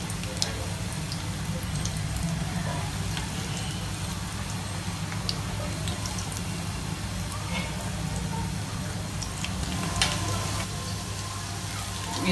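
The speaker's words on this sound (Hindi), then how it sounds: "अब मैं फ्राई कर रही हूँ, तेल भी मेरा गर्म हो चुका है।" Small corn pakoras frying in hot oil on a low flame, giving a soft steady sizzle with scattered crackles and pops throughout, close by with no voice.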